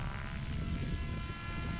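An RC model helicopter flying 3D aerobatics, including repeated flips and inverted passes, gives a steady, fairly loud rotor and engine drone with a constant tone throughout. No voices are heard.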